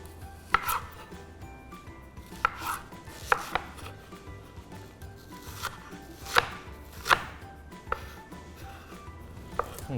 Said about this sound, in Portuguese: Agora eu vou picar também uma cebola pequena